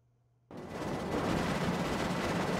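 Sustained, dense gunfire bursts in the video game Cepheus Protocol start abruptly after a quiet moment and continue as a loud, steady barrage without talk.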